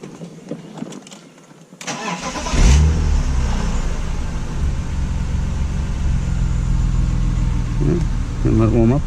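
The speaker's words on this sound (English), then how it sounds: "start the car up." A BMW M Roadster cranks briefly and fires up, then settles into a loud, steady idle close by, with faint clicks and handling noise before the start.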